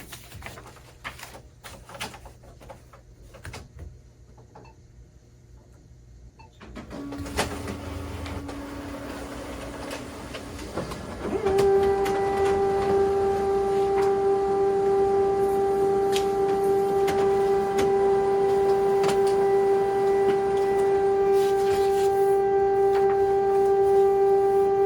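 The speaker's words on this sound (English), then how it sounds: "Now let's move on to the ADF speed test." An HP Color LaserJet Pro MFP M283 scans pages through its automatic document feeder. Scattered quiet clicks build into a mechanical whir, then a loud, steady motor hum runs to the end.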